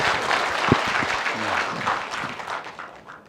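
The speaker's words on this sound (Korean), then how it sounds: "박수 치신 분들 복 받으실 거예요" An audience at a book concert applauding, with a dense wash of many hands clapping that holds steady and then gradually fades, along with a brief voice partway through.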